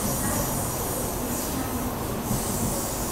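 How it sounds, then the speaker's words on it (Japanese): A Tokaido Shinkansen Nozomi bullet train departs a platform heading for Tokyo. A loud, continuous rushing roar fills the clip, with metallic wheel squeal throughout. "のぞみ466号東京に向けて出発していきました。"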